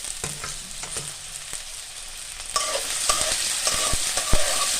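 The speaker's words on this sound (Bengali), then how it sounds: "এগুলো আমরা একটু ভেজে নেব" Chopped potato and cauliflower fry in a pan with a steady sizzle, broken by sharp clatters and scrapes of stirring that grow louder and busier in the second half.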